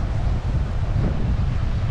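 Wind blows hard at Hua Tan beach in Phetchaburi, Thailand, buffeting the microphone with a loud, continuous low rumble and roar that fills the whole moment with no voices.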